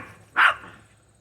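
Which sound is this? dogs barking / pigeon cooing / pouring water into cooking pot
dogs barking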